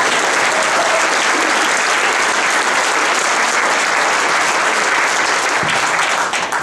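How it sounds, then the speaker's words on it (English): Loud, sustained applause from an audience at a political rally for Andrew Cuomo, a dense wash of clapping that fills the whole stretch without pause and tapers only slightly at the end. "you should have clapped for that"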